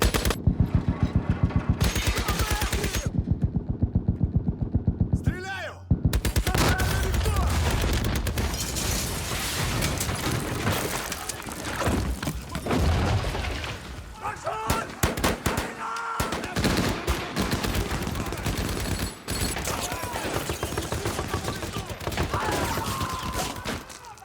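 Sustained, loud bursts of automatic gunfire with booming blasts in a battle scene from the 2014 World War II film Fury, continuous battle noise throughout with occasional shouting voices.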